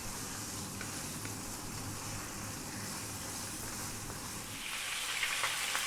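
Skinless bone-in chicken thighs fry in a pan over medium heat, giving a steady, even sizzle and crackle throughout, growing slightly louder and brighter near the end, with no talking.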